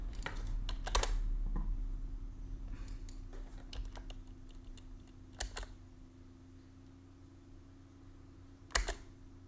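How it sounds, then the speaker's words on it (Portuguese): A worn computer keyboard is typed on in scattered bursts of sharp clicks, some sounding in quick clusters and others spaced apart, set against a steady low electrical hum, with no talk. "Esse meu teclado está ruim, cara."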